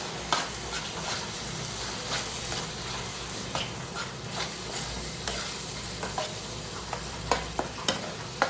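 Paneer masala sizzles in a pan, with a steady frying hiss under close stirring and a few sharp clicks and scrapes of the spoon against the pan toward the end.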